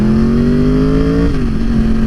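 Motorcycle engine revving with a strong, steady tone that rises slightly, then drops as the revs ease off, loud and close, with no voices.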